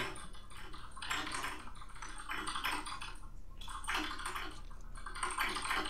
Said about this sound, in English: You're like typing to a beat, you know that, right?